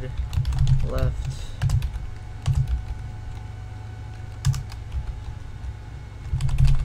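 Code comments are typed on a computer keyboard in quick bursts of close clicking keystrokes, separated by pauses, with a low hum and a voice talking underneath.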